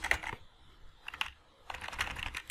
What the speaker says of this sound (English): why I'm always typing after select